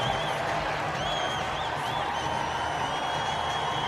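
A big stadium crowd at the World Para Athletics Championships in London applauds and murmurs steadily, a continuous wash of clapping and crowd noise with whistling tones over it.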